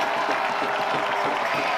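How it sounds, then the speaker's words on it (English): A dense stadium crowd roars and applauds steadily after a penalty goal at a soccer match between Chattanooga FC and Stumptown AC in Philly Stadium, a continuous wash of cheering with no breaks. "Crowd absolutely loves it."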